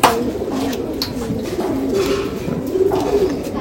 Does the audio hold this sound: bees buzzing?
no